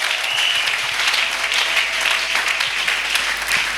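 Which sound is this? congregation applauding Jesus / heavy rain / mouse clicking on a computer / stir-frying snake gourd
congregation applauding Jesus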